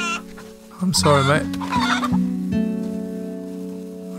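Chickens clucking inside the DayZ video game, a short burst of squawking followed by steady in-game ambient hum, with someone talking over it.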